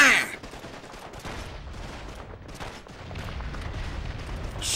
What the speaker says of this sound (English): Shooting distant silhouettes as the ground around me explodes just won't cut it for D-Day.